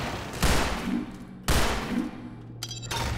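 Gunfire in the video game Entropy Zero 2: two loud, sharp shots about a second apart, each with a rumbling tail, followed by a brief metallic rattle.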